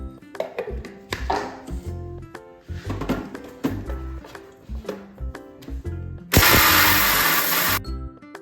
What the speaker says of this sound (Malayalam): ഇനി നമുക്കത് പൊടിക്കാം